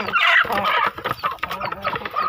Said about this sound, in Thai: นี่ไก่ดำชุดนี้นะครับนี่เราสามารถจับมาได้เลยนะครับนี่ไก่ดำทุกตัวนะครับ